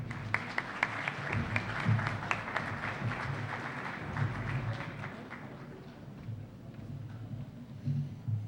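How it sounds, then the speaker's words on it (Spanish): Applause from a university audience at an international constitutional law congress, greeting an invited lecturer; steady clapping with some sharp individual claps up front, fading somewhat toward the end under a low hall rumble. "Recibámoslo con un fuerte aplauso."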